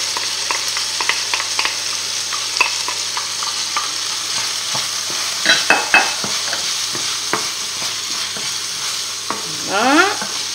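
Onions and garlic fry in olive oil for squid Basque-style, giving a steady close crackling sizzle broken by stirring clatters and a brief scraping at the end.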